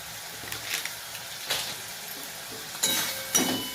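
Pomfret fish cooking in a pan with salt, turmeric, chili powder and garlic, a soft continuous sizzle with occasional stirring scrapes and a couple of louder clinks of utensil against pan.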